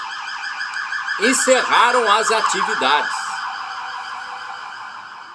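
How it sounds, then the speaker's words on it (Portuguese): Police vehicle sirens wail and whoop nearby in a Brazilian town, rising and warbling over a steady background while someone speaks in Portuguese. "Vocês estão ouvindo as sirenes aí de viaturas?"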